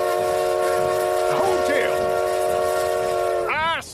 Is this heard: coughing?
no